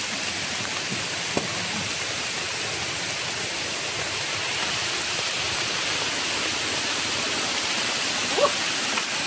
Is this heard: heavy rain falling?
yes